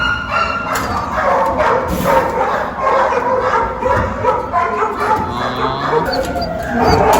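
Several dogs bark, yip and whimper continuously from shelter cages, a loud, overlapping chorus close by, with people talking faintly underneath.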